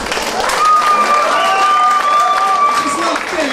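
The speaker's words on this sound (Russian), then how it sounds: "Аплодисменты!" An audience at a Muay Thai fight applauds and cheers in a steady wash of clapping, with a sustained whistle riding over the crowd noise throughout.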